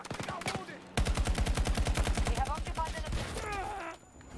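A sustained burst of rapid automatic gunfire in Battlefield 2042, close and loud with a steady rattling rhythm, while voices talk over it.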